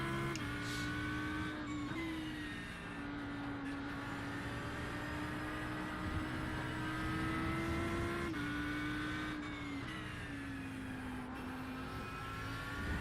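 Ferrari 296 race car engine in a racing video game, a steady high-revving drone with gear-shift dips near two and eight seconds, loud and continuous with no talk.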